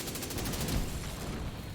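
Rapid automatic gunfire in The Division 2, a fast rattling burst that runs continuously, loud and close, with no talking.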